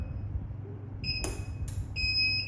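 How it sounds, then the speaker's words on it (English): A water leak detection panel in fault condition sounds its internal buzzer, a pair of short high electronic beeps and then a longer steady tone starting near the end, over a low hum. "there is a fault, but the internal buzzer gets silence"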